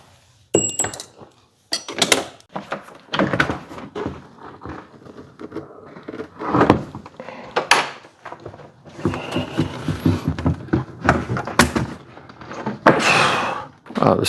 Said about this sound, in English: I'm going to pop the hinge pins and take the door off